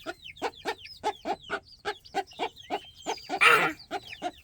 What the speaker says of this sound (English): And these chickens are going crazy over them.